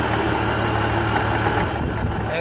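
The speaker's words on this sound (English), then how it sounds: "Alright, start your engine up and start winching in." A 1989 Jeep Cherokee engine runs steadily up close while its winch pulls in new synthetic rope, giving a continuous, loud rumbling drone throughout.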